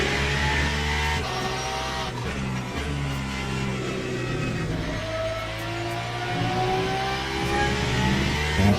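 Race car engines from the video game Le Mans Ultimate, with hypercar and McLaren racing at Spa, drone continuously with layered revving, gear changes and pitch sweeps as several cars pass, loud and steady throughout.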